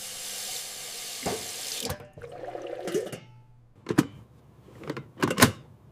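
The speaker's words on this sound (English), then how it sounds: "I must fill the kettle." Water streams from a shiny kitchen faucet into a kettle as it is filled, a steady hiss for about two seconds, then a few sharp clunks and knocks of the kettle being handled close by.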